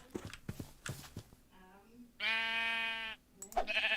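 Sheep in a Minecraft Lord of the Rings mod give a clear, drawn-out synthetic bleat in the middle, after soft clicks and short game noises, with more game sounds picking up at the end.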